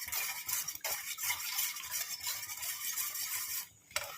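A utensil keeps stirring a homemade face cream mixture in a pan on the stove, a continuous scraping swish with soft clinks against the metal, close and alone.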